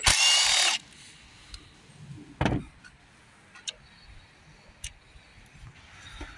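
Power tool on 13mm bolts of a Peugeot 2008 1.6 HDi air filter housing, a short loud whirring burst up close followed by a brief second run and scattered clicks and knocks.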